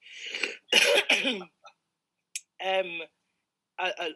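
A person coughs and clears their throat a few times in short, close bursts, with brief gaps of silence between.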